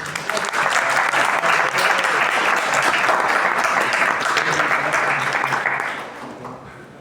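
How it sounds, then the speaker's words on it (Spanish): Audience at an academic symposium on Andean Indigenous resistance applauds to welcome a speaker, a sustained dense round of clapping that fades near the end. "Lo recibimos con un aplauso, por favor."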